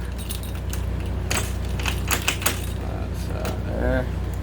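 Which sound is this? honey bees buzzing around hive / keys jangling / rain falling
keys jangling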